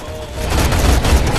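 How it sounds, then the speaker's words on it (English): Shotgun fire in a first-person shooter video game: loud, dense, booming blasts crowd together in a continuous burst, close and dominant with no speech over them. "Shotgun."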